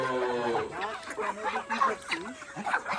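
A flock of ducks calling nearby, overlapping honking quacks and clucks in an irregular, busy chorus.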